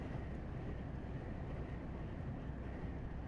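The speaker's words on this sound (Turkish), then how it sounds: "Sağlam bir rüzgar var." A steady, heavy rush of strong wind buffets the microphone beside a long-haul truck with a constant low roar and no other sounds.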